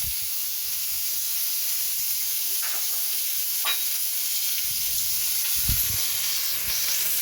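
Onions fry in a hot pan for a macher vorta fish mash, a steady close sizzle and hiss running throughout, with occasional soft stirring scrapes and clatters.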